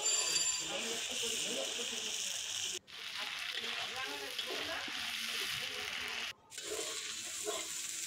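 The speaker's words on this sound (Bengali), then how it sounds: "লঙ্কা জিরে আদা বাটা মশলা দিয়ে বেশ সুন্দর করে কষতে হবে।" A spice paste of chilli, cumin and ginger fries in oil for a rohu fish curry, a continuous bright sizzle with stirring scrapes and two short breaks, a voice speaking faintly underneath.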